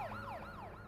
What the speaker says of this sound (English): that police siren can keep going